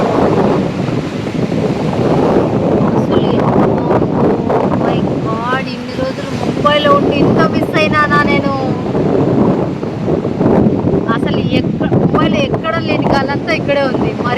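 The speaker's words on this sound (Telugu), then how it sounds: "ఇక్కడైతే అంత గాలి, వాటర్ ఫ్లో ఎక్సలెంట్గా ఉంది" Strong sea wind on the Worli promenade seafront in Mumbai roars and buffets the microphone loudly throughout, with water sounds underneath and people talking over it.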